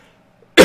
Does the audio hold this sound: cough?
yes